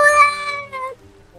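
A kitten meows in the Minecraft video game, one long, high, drawn-out meow that fades into quiet.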